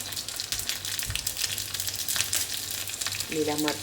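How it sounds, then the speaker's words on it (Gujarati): Mustard seeds and green chillies sizzle in hot oil for a Gujarati rava dhokla tempering, a dense crackling fry that runs steadily throughout, with a short voice near the end. "તો તેલ સરસ ગરમ થઈ ગયું છે. તો આપણે અડધી ચમચી રાઈ લઈ લઈશું."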